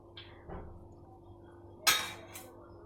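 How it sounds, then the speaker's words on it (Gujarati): A large metal cooking pot handled on a kitchen stovetop while cooking keema pulao: a few light clinks and taps, then one sharper metallic clatter followed by a brief scrape, fairly faint and close. "એક મોટી તપેલી લઈશું"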